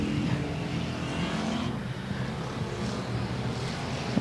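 Stock race cars pull away at the green flag start at Golden Triangle Raceway Park, a dense, continuous roar of engines with no single car standing out.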